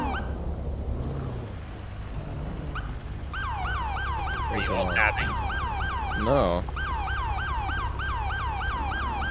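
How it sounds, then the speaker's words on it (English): A police car siren stuck on in FiveM, the GTA V roleplay game, wailing in rapid repeating sweeps over engine hum, with brief talk in the middle. "My siren's just not stopping."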